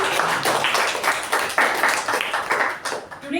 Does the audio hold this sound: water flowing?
no